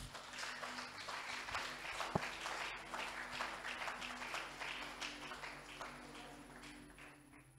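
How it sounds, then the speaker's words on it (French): A church congregation at a thanksgiving worship service claps softly and steadily. The rhythmic hand claps are fairly distant and faint. "Applaudissez pour le Seigneur."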